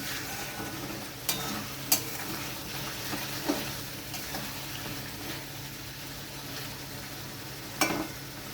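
A spoon stirs spices through boiled new potatoes and ridge gourd in a pan for a light fish curry, giving a soft continuous sizzle with a few sharp scrapes and clinks against the pan, fairly quiet and with no talking.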